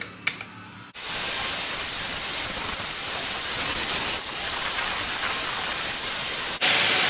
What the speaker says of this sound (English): So I'm going to turn the grinder on and sand down where I can see it rubbing at.